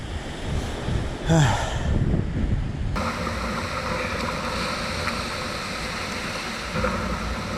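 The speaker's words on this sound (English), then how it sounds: "It's just so windy and that freezing wind and pretty choppy." Gusty, freezing wind buffets the microphone over the rush of choppy waves at an island point, a rough, continuous roar with no voices.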